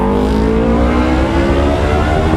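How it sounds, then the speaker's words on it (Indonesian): A motorcycle with a very loud, noisy exhaust roars right up close on a Sunday morning ride, its engine revving with a rising, droning snarl that fills the moment with no talking. "baru opening itu suara knalpot berisik banget"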